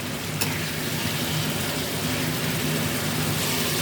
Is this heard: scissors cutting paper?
no